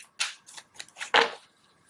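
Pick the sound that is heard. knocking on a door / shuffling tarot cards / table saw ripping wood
shuffling tarot cards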